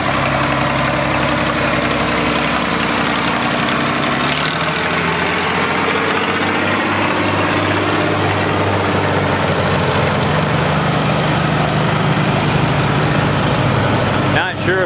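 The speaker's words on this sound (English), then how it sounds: "the tractor parade." Several tractors idling together at an outdoor Red Power tractor parade, a loud continuous low engine rumble close by, with a voice speaking under the drone.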